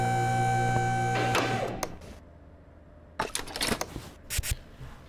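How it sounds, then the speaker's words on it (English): A car lift in Car Mechanic Simulator 2015 lowers a vehicle with a steady electric motor hum that cuts off after about two seconds, followed by scattered mechanical clicks and clunks. "so I'm going to have to lower the vehicle down."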